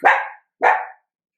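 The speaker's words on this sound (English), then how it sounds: "There goes the puppies." Puppies give two loud, sharp barks, close by and evenly spaced, followed by silence.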